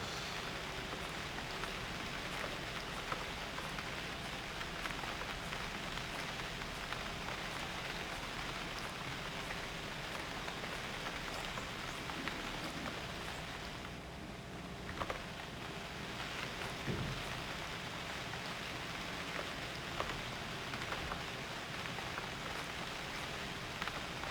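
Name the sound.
rain falling in a video game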